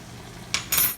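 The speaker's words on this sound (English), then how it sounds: "Now, we just stir this." A spoon stirring tomatoes and meat in a pot for lasagna makes a brief clink against the pot, followed by a louder, scraping stir that ends abruptly, close and with no talking.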